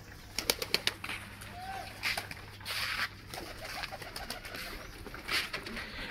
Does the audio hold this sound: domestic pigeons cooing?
yes